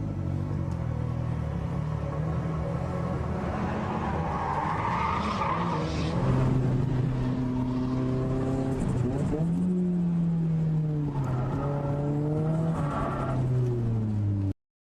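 A drift car slides around Nikko Circuit with long, loud tire squeal rising and falling in pitch over a steady engine roar, continuous for the whole stretch.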